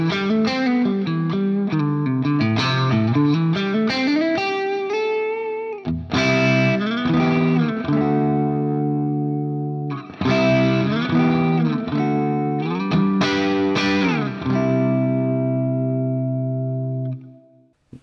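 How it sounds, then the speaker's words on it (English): Electric guitar played through an Axe-FX 3 with a dirty amp, cab and large hall reverb, sustained distorted chords ringing out in long washy tails, loud and continuous with no talking. "At the end, I'm going to put a reverb."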